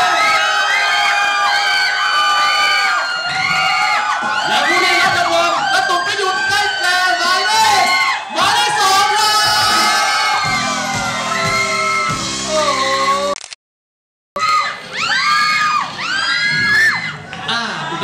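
A loud crowd cheers, shouts and whoops for contestant number two at a stage contest. The excited high-pitched yelling is sustained and breaks off briefly near the end before resuming.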